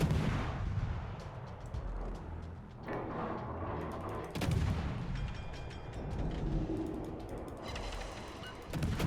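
Naval guns boom in World of Warships, heavy blasts at about three and four and a half seconds with rumbling tails, mechanical clanks and clatter in between; no voices.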